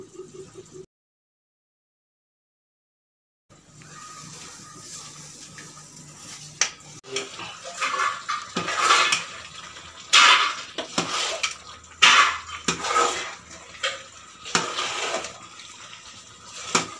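Washed, soaked rice is added to a pot of cooked mutton biryani, bringing splashing water, clattering utensil knocks and scraping in bursts after a brief silence.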